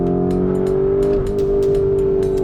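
A 2021 Lamborghini Urus SUV accelerates hard, its engine holding a loud, steady, sustained roar close up with a rising harmonic tone and no voices.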